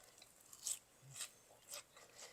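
Crunchy fresh lentil sprouts bitten and chewed close up, three or four crisp crunches spaced about half a second apart, quiet, with no talking.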